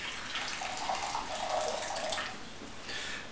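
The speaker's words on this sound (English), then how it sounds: "a little bit of hot water is a good start. Swish it around a bit" Hot water swished around inside a teapot to warm it, a continuous sloshing, splashing water sound with a brief lull near the end, close and clear without talk.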